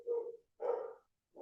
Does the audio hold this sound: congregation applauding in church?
no